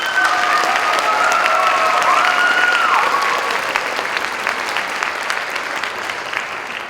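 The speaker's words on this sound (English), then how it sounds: "so round of applause for Kai" A school jazz band concert audience applauds the trumpet soloist, a dense, steady wash of clapping from a large crowd that stays loud throughout and thins only slightly toward the end, with a faint whistle over it early on.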